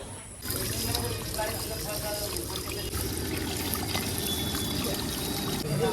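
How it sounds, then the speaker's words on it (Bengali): Water poured to wash mud-caked feet outdoors in a village, a steady trickling and splashing stream that runs on continuously after a brief quiet start. "এখন পা ধুয়ে তারপরে যেতে হবে পায়ের মধ্যে একেবারে দুনিয়ার কাদাগুলো ভরছে"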